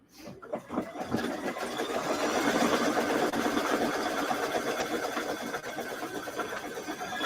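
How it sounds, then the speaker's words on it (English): An embroidery machine stitches a trivet with a fast, steady mechanical whirring and rapid needle clatter, starting up after a moment and running continuously close by. "So I'm just going to stitch this down."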